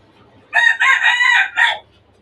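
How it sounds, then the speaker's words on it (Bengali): A rooster crows once, loud and close, in a caged chicken farm, a single drawn-out cock-a-doodle-doo broken into rising phrases and ending in a short final note, with quiet background between. "এই যে আমার খামারটি খাঁচা বিশিষ্ট একটি মুরগির খামার।"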